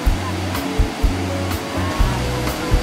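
Strong, fast water pours at Chet Si waterfall in Bueng Kan, Thailand, a loud continuous roar with low rumbling pulses and brief bumps, heard alone without talk.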